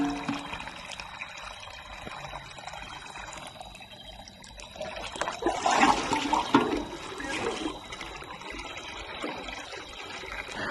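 Water poured from a bucket into a 1000-litre tank in a dry forest area, with a trickling start that swells into a loud gushing splash midway before easing back into pouring.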